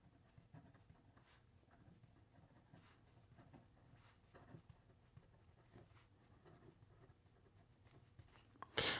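A fine-nib Ensso Piuma fountain pen writes on paper with faint, close scratchy strokes and soft tapping in a quiet room, ending with a brief louder knock.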